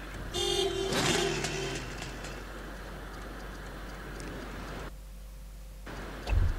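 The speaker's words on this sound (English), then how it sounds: "Stupid honking noise it makes," Horn-like honk from an aircraft in the Toy Soldiers: Cold War video game, a bright tonal blast near the start over steady engine noise, with a short gap before a low thump at the end.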